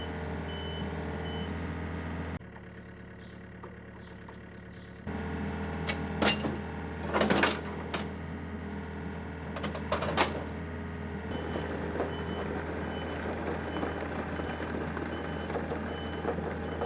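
A John Deere tractor idles with a steady low rumble, then backs up with its reversing beeper sounding in bright bursts over continuous engine noise at a working hay barn.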